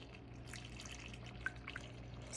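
Cold whole milk pouring into pudding mix, a steady soft liquid trickle with a few small splashy drips, close and quiet, no talking.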